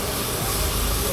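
Lamb stew sizzles hard as it is stir-fried quickly over high heat in a small pan in Lahore, Pakistan, a dense, steady, loud hiss with no pauses.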